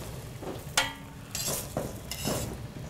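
Zucchini slices fry in oil on a hot plate, giving a quiet, soft sizzle broken by a few sharp clinks and scraping sounds of tongs moving the slices, with no talking.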